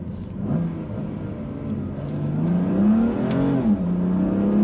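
A BMW M2 Competition engine in Sport Plus mode revs up and settles in a low, rising growl with bursts of exhaust crackle, steady and fairly close.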